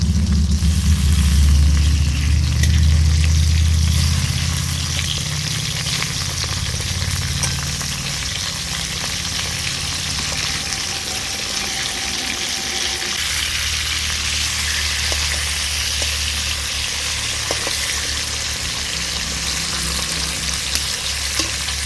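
Local rohu fish pieces sizzling in a pan of hot oil, a loud continuous crackling fry close by with a stronger burst at the start, then an even, steady sizzle with occasional scraping.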